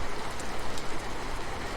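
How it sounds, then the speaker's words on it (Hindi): Rain falls steadily during a stormy downpour, a soft, even hiss of drops with low rumbling beneath, moderately quiet and unbroken throughout with no voices. "गुड़गुड़ाहट के साथ पानी गिरने लगा।"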